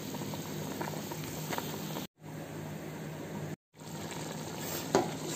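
Egusi soup simmering in a covered pot, a steady low bubbling and gentle patter with a faint hum, interrupted by two brief silent gaps.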